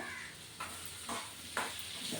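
Onions and green chillies frying in hot tempering oil give a steady sizzle, broken by a few soft scraping stirs of a spoon in the pan.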